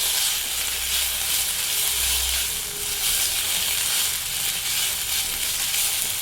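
Ginger garlic paste sizzles steadily in hot oil for a Kerala-style kandhari chicken gravy, a continuous bright hiss with soft stirring scrapes underneath and no voices.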